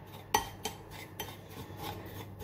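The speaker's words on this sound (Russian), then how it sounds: "Перемешиваем чеснок вместе с сухарями и зеленью." Garlic, breadcrumbs and herbs stirred in a bowl with a utensil, giving a few clear clinks and scrapes against the dish over a quiet background.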